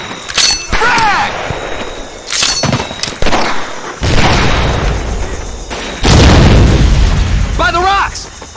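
Frag grenade explosions in Medal of Honor Pacific Assault, several loud, close blasts with crashing debris amid jungle combat, shouted voices breaking in between.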